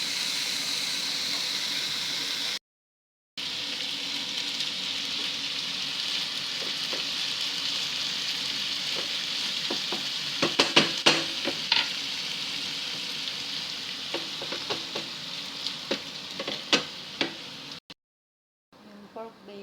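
Sugar stirred in a hot frying pan, a steady sizzle with scraping stirs and clinks growing busier midway, broken by two short silences.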